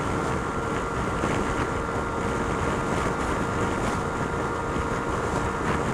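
Steady, droning roar of a Kanuni Seha 150 motorcycle engine held at full throttle while climbing uphill, continuous and loud, heavily mixed with rushing wind noise over the microphone.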